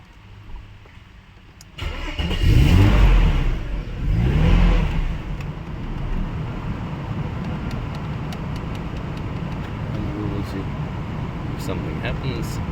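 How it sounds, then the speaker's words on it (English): A Mercedes-Benz W210 car engine cranks and turns over, revving up twice before settling into a steady idle hum. "And now we will start the engine again."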